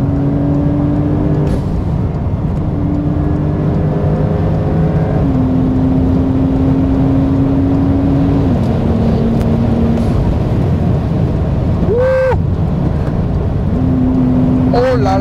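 A Brabus 900 Rocket R, a tuned Porsche 911, pulling hard at very high speed, loud engine tone climbing through the gears with steady wind and road roar throughout.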